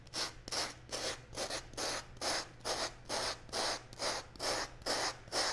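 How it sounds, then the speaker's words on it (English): A sanding block works along an edge right beside masking tape, making about a dozen steady back-and-forth rasping strokes, close and even in rhythm. "I can take my sanding block and I can go ahead and sand that edge"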